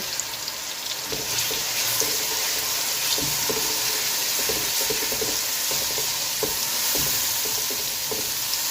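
Steady sizzling of ginger garlic paste frying in a pan, a continuous hiss with occasional stirring scrapes, close and fairly loud, no voices.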